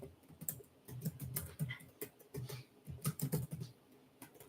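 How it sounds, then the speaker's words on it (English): Quiet, rapid keystrokes on a computer keyboard patter in irregular bursts with brief pauses, close and soft, with no one speaking. "So let me just type something in."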